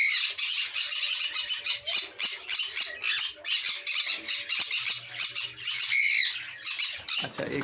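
Pet birds in an aviary of breeding pairs, including red factor and DNA-sexed mother pairs, squawk and chirp continuously in dense, overlapping bursts from close by, with no voices.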